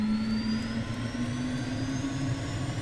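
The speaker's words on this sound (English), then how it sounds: "Start indications look good. We will go ahead and run engine." A jet engine spools up in Microsoft Flight Simulator as a steady turbine whine with a faintly rising tone over a constant low rumble, loud and continuous with no voices.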